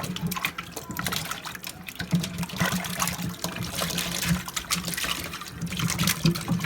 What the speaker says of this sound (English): So what I do is I kind of soak it, scrub it, and then I'm gonna go in and rub them